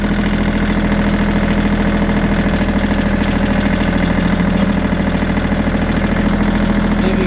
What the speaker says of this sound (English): Maybe we can rev it up a little bit.